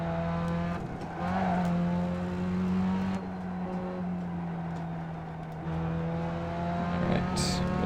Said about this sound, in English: we got another Mustang up on us